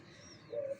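A zebra dove (perkutut) gives a soft, brief coo while feeding outdoors, faint and somewhat distant, following a quieter stretch of ambient noise.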